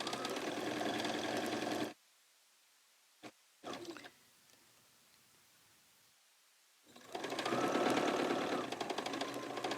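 Sewing machine stitching through fabric to attach a fabric tag, with a loud steady run of about two seconds, a quiet stretch broken by a few short bursts, then a second loud sustained run near the end.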